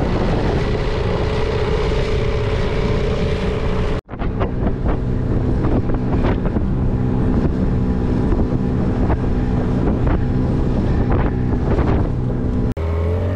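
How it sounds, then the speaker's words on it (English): Outboard motor running on a dinghy near a remote South Pacific atoll, a steady loud engine drone with water splash and wind buffeting the microphone, briefly cut near four seconds and again near the end. "first run with the new outboard"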